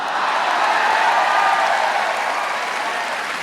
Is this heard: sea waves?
no